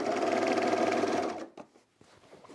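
A sewing machine stitching denim jeans runs loud and steady, with extra pressure on the presser foot, then stops abruptly after about a second and a half, leaving faint handling clicks and rustles.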